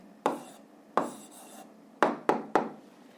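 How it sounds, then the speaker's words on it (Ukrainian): A pen writes down the answer to a physics problem in five crisp strokes on paper. There are single strokes early on and a quick cluster of three near the end, close and fairly quiet. "записуємо відповідь, пишемо відповідь"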